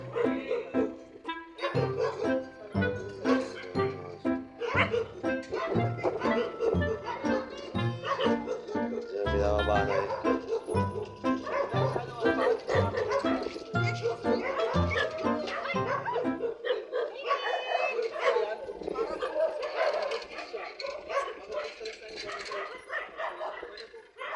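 Several rescued stray dogs at a dog shelter barking and yipping excitedly up close, with some whimpering, a busy overlapping chorus that continues as people talk over it.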